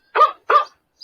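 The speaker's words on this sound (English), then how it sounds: "So जब जब butterfly dog को touch करेगी, वो dog sound करेगा" Cartoon dog bark sound effect in a code.org coding game, two short clean barks in quick succession followed by a faint chirp, isolated against silence.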